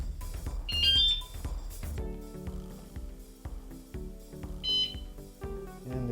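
Wsdcam electric bike alarm on a Lectric e-bike chirping as it arms, two short high electronic beep bursts close by amid clicks and handling noises.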